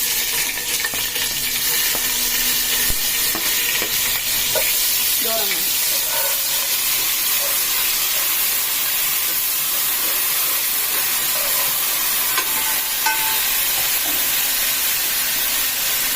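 Onion paste fries in a pan as the base of a gravy, giving a continuous loud hiss and sizzle with faint stirring scrapes and occasional clinks throughout.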